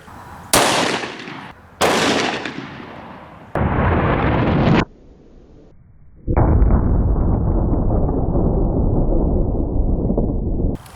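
Gunshots fired with .45 ACP +P 200-grain hollow-point rounds into ballistic gel ring out as three sharp, loud close reports in quick succession, followed after a pause by a longer sustained burst of noise.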